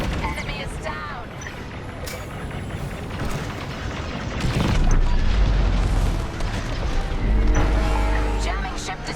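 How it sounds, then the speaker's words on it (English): A jamming ship blows apart in the space combat game Star Wars: Squadrons, heavy booming blasts and crackling fire swelling midway amid laser shots and a busy battle mix, with voices talking over it. "Jamming ship destroyed."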